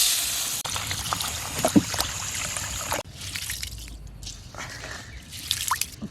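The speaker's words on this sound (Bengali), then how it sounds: "ভাতের চাল ধুয়ে নিলাম।" Rice grains being washed in water in a pot, wet sloshing and squishing with dripping and trickling, a louder churning stretch followed by softer, intermittent swishes and drips, close by with no talking.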